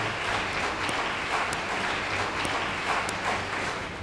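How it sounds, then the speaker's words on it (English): A studio audience at a school quiz competition applauds in a steady, moderately loud wash of clapping with a few sharper individual claps, no voices over it. "Please give them a round of applause."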